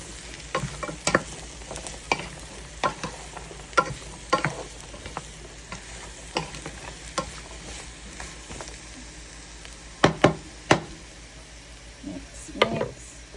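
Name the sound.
stirring pinakbet vegetables with squash in pan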